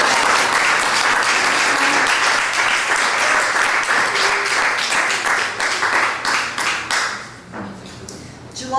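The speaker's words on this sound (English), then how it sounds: "Please give her a good round of applause." An open-mic poetry audience gives a sustained round of applause for a poet. The dense clapping is close and loud, thins into scattered claps near the end, and then swells briefly again.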